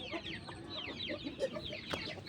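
A yellow broody hen and other chickens cluck close by in short repeated calls, with a few higher squawks breaking through a low background murmur.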